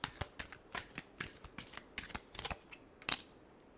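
Tarot cards are shuffled by hand in a quiet room, a rapid series of about a dozen soft riffling bursts in an uneven rhythm, close and fairly faint, ending with a sharper snap.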